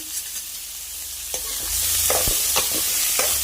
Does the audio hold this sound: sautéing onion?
yes